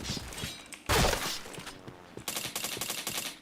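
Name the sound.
AK rifle gunfire in a video game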